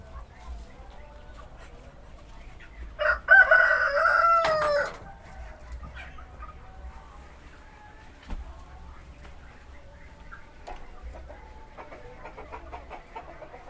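Chickens in a coop on a KUB poultry farm give a loud, close rooster crow lasting a couple of seconds, then scattered soft clucks and bird calls continue behind quiet background talk.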